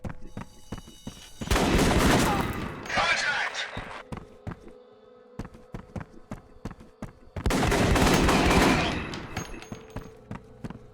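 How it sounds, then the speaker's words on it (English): Pistol gunfire in the game F.E.A.R. rings out in sharp repeated shots amid two bursts of loud broadband noise, with sporadic single cracks between them. "God, these pistols, they sound so good now."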